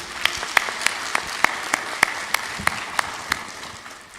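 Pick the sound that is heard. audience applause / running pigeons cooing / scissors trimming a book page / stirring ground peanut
audience applause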